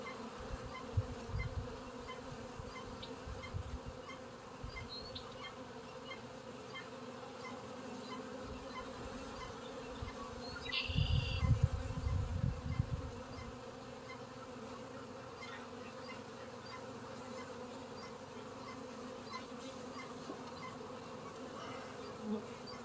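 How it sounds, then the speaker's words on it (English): Honey bees buzz in a steady, soft drone during a hive inspection, with a louder close pass of buzzing around the middle and occasional faint handling noises. "I'm just happy to see all of that bees."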